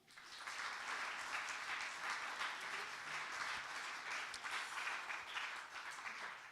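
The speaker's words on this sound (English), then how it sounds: "Big round of applause to them all." Audience applause for the speakers at an evening meet-up, a steady, dense wash of clapping that swells in quickly and holds evenly throughout, fairly distant and with no talking over it.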